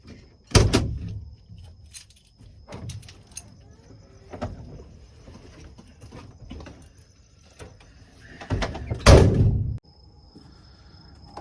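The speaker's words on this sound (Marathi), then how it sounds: "गाडी लॉक करू, इकडचं पण दरवाजा लॉक करू" A car door thumps shut, followed by scattered clicks and small knocks as the car is locked, then a second solid thud near the end; quiet murmurs in between.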